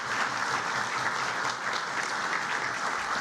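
Steady, dense applause from the audience at an alumni dinner, a continuous even wash of many hands clapping with no voices over it.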